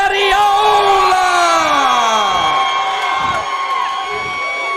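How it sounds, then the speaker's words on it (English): A loud, dense crowd at an amateur fight event in a bar venue, cheering, whooping and yelling together as a fighter is introduced, sustained throughout at close range. "I can't hear myself with the crowd behind me."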